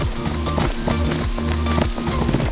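Galloping horse hooves in the mobile racing game Rival Stars Horse Racing, during a free ride across open fields and woodland, give a loud, steady and rapid drumming rhythm that runs without a break.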